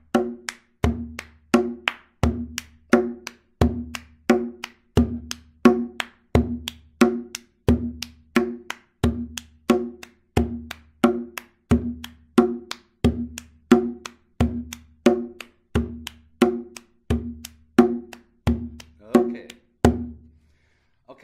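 Close, steady drum pattern of a deep bass drum stroke, a hand clap and a sharp rim hit, cycled evenly many times with crisp attacks and no talking over it.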